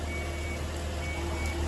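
Steady electronic reversing beeps from a small tractor hauling a boat out of the water at a marina, faint and continuous over low machinery hum.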